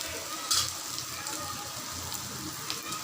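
Bitter gourd (karela) sautéing in a pan for a Maharashtrian karlyachi bhaji, a steady soft sizzle with occasional brighter crackles, close and continuous with no talk.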